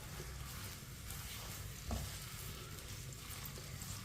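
Chopped onions frying for matar pulao sizzle softly and evenly in a pan, with one brief scrape of a stirring spoon partway through; quiet and steady with no voices.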